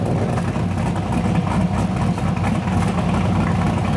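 LS V8 engine of a police car idling steadily after an exhaust J-pipe adjustment, a loud, even low rumble with no talk over it.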